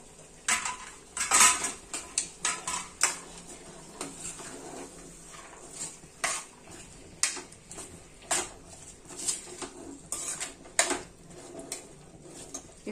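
Washed chana dal goes into a cooking pot while tinde chana dal sabji is made, bringing a series of close, sharp clinks and scrapes of utensils against metal cookware, irregular and fairly loud, with no talking.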